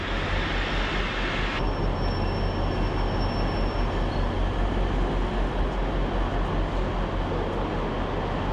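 A loud, continuous rumble of a train in motion, with a high whine entering partway through and lingering for a couple of seconds.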